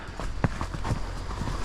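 A horse out on a ride walks with hooves clip-clopping in an uneven series of soft knocks, moderately close, with no talk over them.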